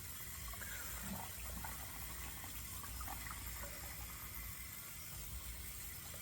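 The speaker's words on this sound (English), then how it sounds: "So let's go ahead and put some hot water on it, get it blooming." Hot water runs steadily from a tap or kettle onto a puck of shave soap, a faint continuous gushing with no voices.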